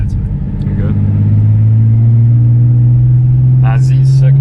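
Turbocharged Nissan 350Z with about 400 wheel horsepower cruising on a canyon road, a steady loud low engine drone and rushing air noise throughout, with brief voices near the end.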